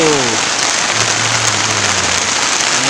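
Heavy rain pouring steadily and loudly, close by, with a faint voice briefly audible under the downpour.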